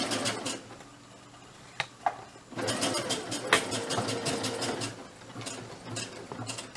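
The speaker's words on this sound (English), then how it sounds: "I'm going to go ahead and start sewing it." A sewing machine stitches a homemade fabric mask in rapid, rhythmic mechanical bursts, starting after a couple of sharp clicks, running steadily close by, then slowing toward the end.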